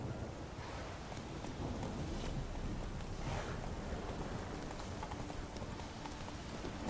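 Roach, the horse in The Witcher 3, trots with faint rhythmic hoof clops under a loud wash of wind and outdoor ambience, steady and somewhat distant, without talk.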